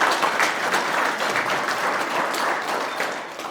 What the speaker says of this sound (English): give Mike and his team, Al and Ace and Jason, a round of applause as well